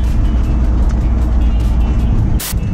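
A 1967 Ford F100 pickup truck drives along with a steady low engine rumble and road noise throughout, a brief sharp burst near the end.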